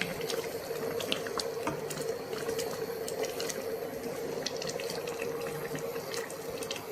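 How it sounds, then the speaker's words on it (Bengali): Bengali-style moong dal with bitter gourd, bottle gourd and drumsticks bubbling in a pot as it is stirred, a steady watery boiling rush with small clinks and splashes, close and continuous. "একটু নেড়ে দেব।"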